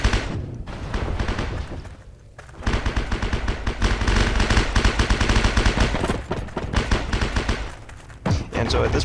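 Heavy gunfire from a video game war-mode airfield defense map, with sustained automatic bursts and booming shots filling nearly the whole stretch, loud and dense, briefly dropping out near the start before resuming.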